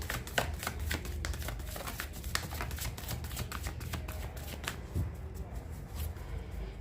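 Tarot cards riffle and slap in a steady, close shuffle, a dense papery patter that runs continuously before easing near the end, with no speech over it.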